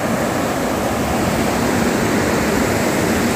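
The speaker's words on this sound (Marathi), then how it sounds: "आणि या ठिकाणी समोर हा सैतवडे धबधबा." The Saitwade waterfall, a perennial fall in the Konkan region, sends up a loud, constant roar of rushing water that stays steady and close with no other sounds.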